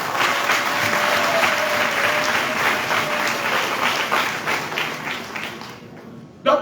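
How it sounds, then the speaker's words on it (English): Sustained, steady applause from a gallery at a parliamentary session in Freetown, Sierra Leone, a dense crowd of clapping hands for presidential nominees that carries evenly for about six seconds before cutting off abruptly. "Members of the gallery, clap for your nominees,"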